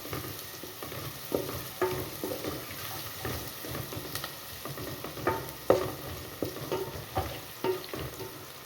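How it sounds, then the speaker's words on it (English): Garlic sizzles in a pan while being stirred for tomato soup, a steady frying hiss broken by repeated scraping strokes of the spoon, close and fairly loud. "Stir that up to cook the garlic."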